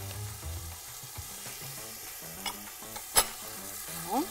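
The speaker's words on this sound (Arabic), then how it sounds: "هشوح كله مع بعض، مش هسبك، هديهم تشويحه" Tomatoes and green beans stir-frying together in a pan: a soft, steady sizzle with scattered scrapes and clinks from stirring, close by and without talk.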